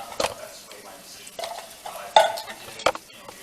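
A spoon scrapes and clinks in a pot as seasonings fry for curry tofu, with a few sharp metallic knocks over a soft background, close by and moderately quiet.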